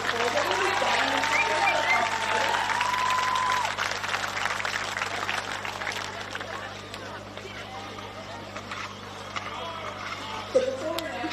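Spectators at a carnival rugby league field applaud and cheer for invited Brisbane Broncos and other players, a sustained round of clapping with crowd voices and babble mixed in, easing slightly toward the end.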